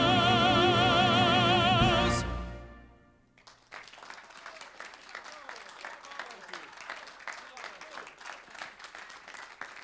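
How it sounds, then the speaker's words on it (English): Applause from an audience at a Rotary centenary baton launch, a dense patter of many hands starting around the fourth second after a sustained musical or tonal passage fades out, continuing evenly at moderate distance. "let's keep that applause going for Nicholas Jones"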